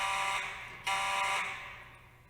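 A building fire alarm, set off from a first-floor pull station at the main entrance during a test, sounds a loud harsh buzzing tone that briefly cuts out and then resumes.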